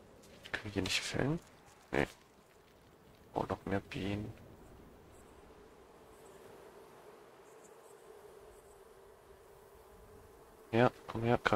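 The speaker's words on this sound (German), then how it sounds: "Oh, noch mehr Bienen." Bees drone with a steady low hum throughout a survival game on a raft, while someone speaks in short bursts over the buzzing.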